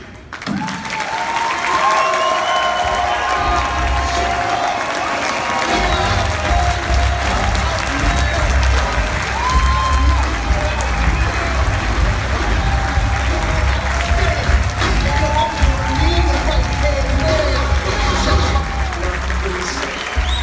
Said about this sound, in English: One more round of applause for the next nominee.